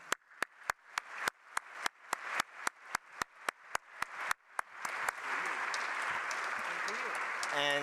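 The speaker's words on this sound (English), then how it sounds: "I want a round of applause to this team" An audience applauds an organizing team at a carbon farming summit plenary farewell, first as a few sharp, evenly spaced claps, then swelling into a dense, sustained wash of clapping from a large crowd.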